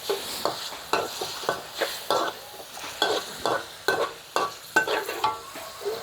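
Ginger and sun-dried pork stir-fried in a pan: rhythmic scraping strokes of a spatula under a steady sizzle, close and alone, with no voices.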